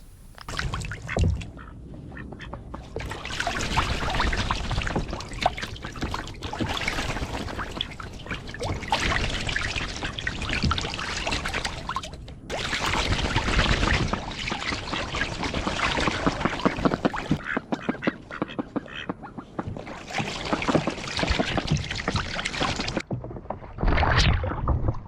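A pet duck dips its beak into sand and then into its water bowl near a pond, giving a run of wet splashing, dabbling and trickling water sounds lasting throughout, close and fairly steady with brief pauses.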